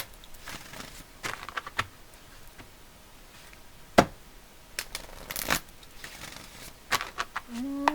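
A deck of angel oracle cards is shuffled by hand, making soft riffling and flicking with a few sharper snaps scattered through, close and fairly quiet with no talking.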